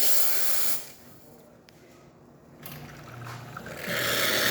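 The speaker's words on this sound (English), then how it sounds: "Excellent steam pressure." Strong, steady steam hiss from a Quick Mill espresso machine's steam wand that drops to a quieter rush in the middle, then surges back loud near the end.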